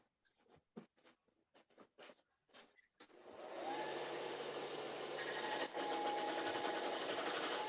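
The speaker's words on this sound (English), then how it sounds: "I'm going to put it on the sander real quick." A few scattered clicks and handling taps, then a power sander starts and runs steadily on a wood turning piece, a loud sustained whirring hum close by for the rest of the clip.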